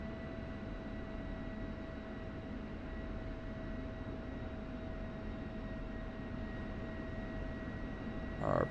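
A military jet taxis in the flight simulator DCS, a steady distant engine whine and rumble running continuously at low level, with a short louder bump at the very end.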